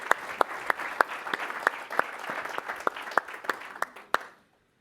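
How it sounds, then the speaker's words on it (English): Conference audience at Dreamforce 2017 applauding a logistics company presenter: a steady round of clapping with a few sharp, distinct claps standing out, ending abruptly into silence. "So give him a round of applause."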